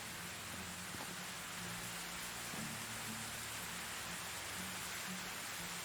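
Steady rain falling in the medieval village-building game Medieval Dynasty, a soft even hiss of drops heard alone without pauses, fairly quiet.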